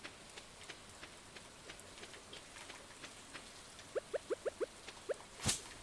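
Steady rain patters throughout in the Stardew Valley farming game, soft drips over a dense hiss, with a short run of evenly spaced chimes near the end and a louder burst just after.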